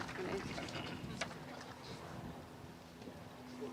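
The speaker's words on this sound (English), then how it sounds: "It's windy." Steady wind buffets and rumbles across the microphone throughout, a constant gusty roar.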